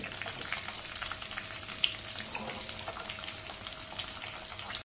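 Sliced onion, garlic cloves, ginger and green chillies frying in hot oil, a dense, continuous crackling sizzle at steady level with no voices.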